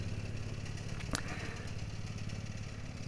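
Cub Cadet CC30H riding lawn mower mowing slowly in a backyard, its engine running with a steady, loud, rattling clatter throughout, close by and alone.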